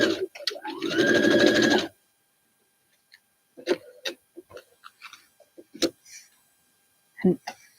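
A sewing machine runs a steady two-second stitching burst along a foundation paper pieced seam for a boot quilt block, then stops and leaves only scattered light clicks and handling noises.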